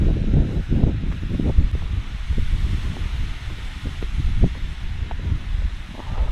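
Light wind blowing outdoors on a solo campervan walk, a low continuous rumble and buffeting against the microphone with rustling gusts, steady and close, no talk.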